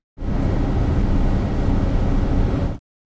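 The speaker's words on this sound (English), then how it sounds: "We're making a server room ambience," A server room ambience sample for video game sound design: a loud, steady broadband hum and whoosh that holds evenly for under three seconds, then cuts off abruptly.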